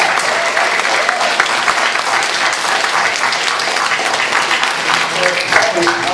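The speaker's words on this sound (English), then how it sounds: "we should give a big applause" Steady, dense applause from a studio audience at a workplace edition of a dating game show, loud and continuous throughout with a faint murmur of voices underneath.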